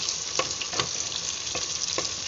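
Steady hot-oil sizzle of onions frying in a pan, with a few soft stirring scrapes breaking through at intervals.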